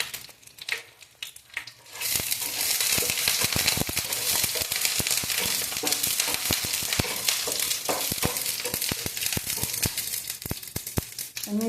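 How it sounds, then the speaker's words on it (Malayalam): Mustard seeds popping and dried red chillies sizzling in hot oil, a loud, dense crackle with sharp spattering pops that starts after a quiet moment and continues steadily close up. "കടുക് പൊട്ടിച്ചിട്ട് കടുക് പൊട്ടി വരുമ്പോൾ അതിൻ്റെ അകത്തേക്ക് ഒരു 3 വറ്റൽ മുളകും കൂടെ ഇടണം."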